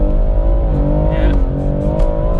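BMW M140i under hard full-throttle acceleration at the VMAX200 top-speed event, a loud sustained engine drone rising steadily in pitch, heard close from inside the car.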